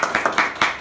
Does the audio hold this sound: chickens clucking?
no